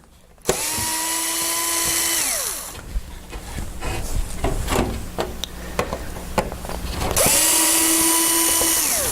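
Cordless power drill backing screws out of a front circuit board panel, motor whining up and winding down at the start and end, with metallic screw rattling and clicks in between, loud and close.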